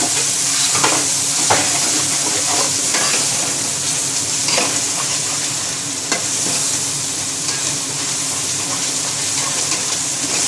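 Garam masala and mixed spices being stirred in a hot pan for chana pulao, a steady sizzle with repeated scraping strokes of the spoon running through the whole stretch, close and fairly loud.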